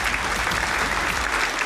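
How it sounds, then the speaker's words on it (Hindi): Sustained applause from an audience at a company anniversary gathering, dense steady clapping filling the whole stretch without speech. "जोरदार तालियों के बीच में।"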